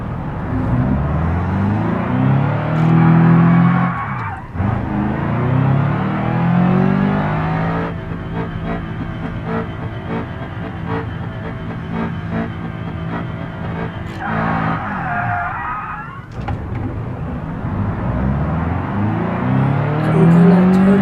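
A car called Miss Madeline is revved hard with the gas pedal pumped repeatedly, its engine note climbing and falling in loud sweeping surges, with a brief dip before another sustained high-rev stretch.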